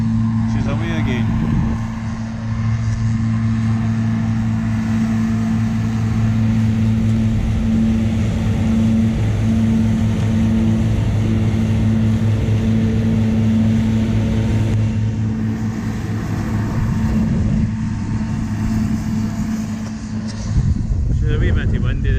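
A 22-year-old Krone Big M self-propelled mower runs steadily, its engine drone holding a strong low hum with a brief dip and surge near the end, close and loud, with a voice heard over it.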